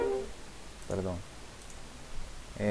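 Light computer mouse clicks sound in short bursts during a Microsoft Access tutorial, a few crisp taps spaced across a couple of seconds, quiet and close over a faint background.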